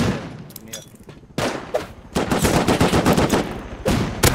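Rapid bursts of gunfire firing incendiary ammunition in the survival video game Rust, loud and close, with sharp repeated shots building into sustained automatic fire toward the end.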